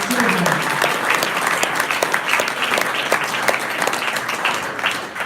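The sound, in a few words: audience applause for speakers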